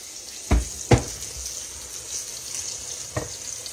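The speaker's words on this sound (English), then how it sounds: "hold your steak and flip it over gently" A country fried steak frying in a pan gives a steady soft sizzle, broken by a few dull knocks and scrapes as a spatula turns it over, with no voices.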